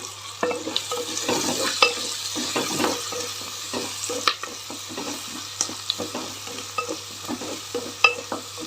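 Tomatoes and curry leaves fry in a pan with turmeric, a soft continuous sizzle broken by repeated scraping stirs of a spoon against the pan, close up and without voices.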